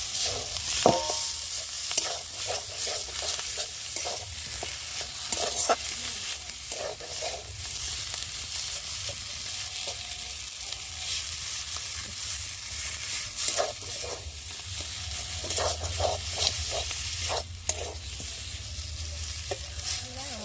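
Mashed potato chokha with dried chilli and chopped coriander being mixed and pressed in a pan, giving a steady run of soft scraping and stirring strokes with light sizzling, close and alone without talk.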